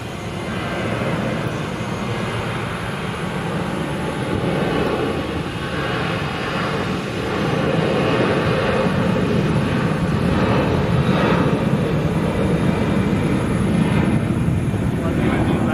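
Southwest Airlines airliner in the old livery passes at Sky Harbor International Airport, a sustained engine rumble and rush holding steady throughout while people talk nearby.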